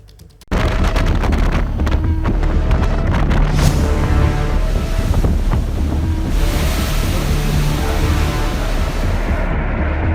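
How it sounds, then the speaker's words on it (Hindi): Strong wind roars over heavy, rough sea waves on the Gujarat coast ahead of Cyclone Biparjoy, loud and continuous after a brief quieter start, with no voices. "हवा डराने लगी है और समंदर की लहरें अपना रौद्र रूप दिखाने लगी हैं"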